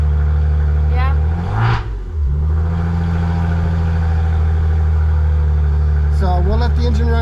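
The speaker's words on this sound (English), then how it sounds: "So we'll let the engine run for a little while and see if the oil pressure goes down" A Maserati Ghibli engine runs at a steady idle after an oil pressure sensor replacement, a loud continuous low hum, while people talk nearby.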